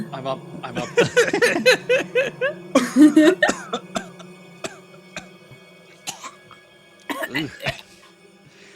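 A person coughs several times in quick bursts and clears their throat, with some low talking and a chuckle mixed in, fairly close, during a Call of Cthulhu tabletop role-playing session.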